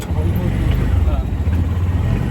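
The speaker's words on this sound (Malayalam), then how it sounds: "അങ്ങനെ നമ്മൾ പോവാണ്, ഒരു ഓട്ടോ യാത്ര നടത്താൻ പോവാണ്." Steady low engine rumble of an auto rickshaw during a ride, continuous and close with road noise throughout.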